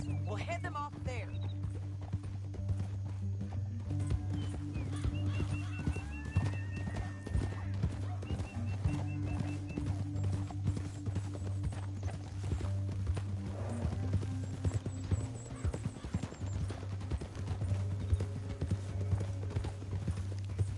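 Several horses clop along steadily in a Western video game, rhythmic hoofbeats with an occasional whinny under a low droning music bed, while characters talk over them.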